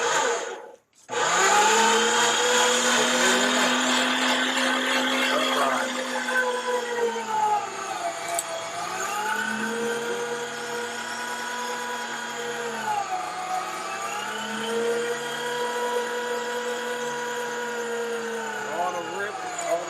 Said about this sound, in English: We've got them partially frozen, makes it easier to grind. So we're going to start the grinder.